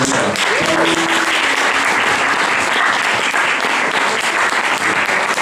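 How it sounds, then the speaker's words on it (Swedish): Loud, sustained applause from a live concert audience at Skottvångs Grufva welcoming the baker onstage, many hands clapping evenly throughout with a few brief voices near the start. "En stor applåd för bagaren"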